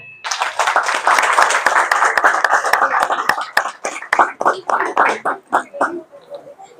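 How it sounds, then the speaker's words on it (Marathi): A crowd claps loudly and continuously at a Dr. APJ Abdul Kalam birth anniversary event, a dense burst of applause that thins into scattered, rhythmic claps before fading out. "जोरदार टाळ्या"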